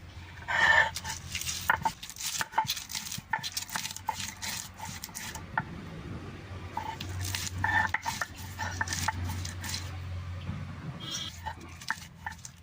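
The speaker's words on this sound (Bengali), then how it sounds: "আমি কটা কাঁচামরিচ পাড়ার মধ্যে বাইটে নেব" Green chilies are crushed on a stone grinding slab for a coriander-leaf puri filling, with repeated close scraping and knocking strokes in an uneven rhythm.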